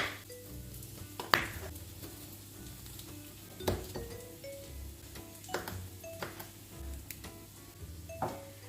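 Onion sautéing in a pan gives a faint, steady sizzle, broken by a few soft clinks and knocks of utensils against cookware, quiet and with no talk.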